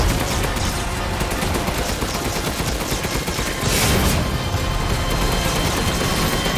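Rapid, dense gunfire from a firearm in the video game Resident Evil Village, during the Mother Miranda boss fight, sustained and loud with one heavier burst midway.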